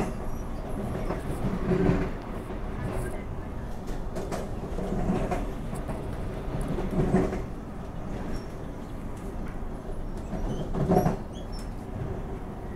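A Transperth electric B-series passenger train on the Thornlie line in Perth rumbles along the rails with rhythmic clacks and faint squeals, a continuous moderate roar from nearby with periodic swells.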